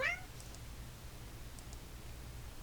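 A single cat meows briefly and clearly at the very start, followed by a steady low background hum with a few faint ticks.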